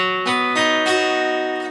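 An acoustic-sounding guitar chord rings out, restruck a few times as the bass notes underneath shift, the strings sustaining throughout.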